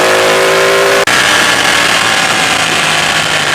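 A Ducati 899 Panigale motorcycle accelerates hard with a quick shifter, its loud, close engine howl cut by a split-second break for an upshift before the pitch climbs again.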